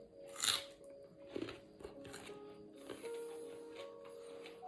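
Someone bites into a raw onion with a sharp crisp crunch, takes a second smaller bite, then chews quietly against a soft background.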